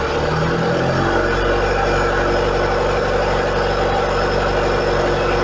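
A car engine run by Speeduino idle control holds a steady, continuous idle that lifts slightly after the first second and then stays even throughout, with no talk.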